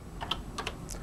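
A few quick keystrokes on a Color Computer keyboard, soft close clacks over a constant low hum, with no talking.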